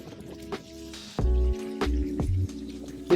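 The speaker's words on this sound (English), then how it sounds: "You can literally see the water beading as I'm skating through puddles." Knitted barefoot shoes splash and slap through shallow puddles on a skateboard, giving a few wet squishing splashes and drips between quieter rolling moments, close and fairly soft.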